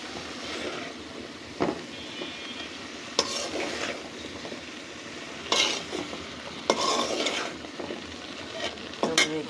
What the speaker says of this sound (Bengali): এই যে সবজিটাকে ভালো করে কষাচ্ছি।